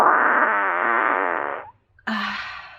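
A long, loud fart with a buzzing, wavering tone lasts over a second and a half, then after a short silence a second brief burst of similar sound follows.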